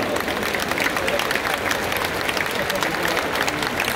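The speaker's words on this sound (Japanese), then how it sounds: "大きな拍手をお迎えください。" Baseball crowd applauding inside a large domed stadium in Nagoya before a ceremonial first pitch, a continuous roaring wash of many hands clapping that fills the space, loud and sustained with crowd murmur mixed in.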